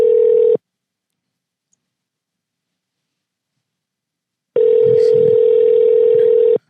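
A steady telephone dial tone hums loud and alone for a moment, cuts to silence for several seconds, then returns with faint background noise beneath it while someone places a call.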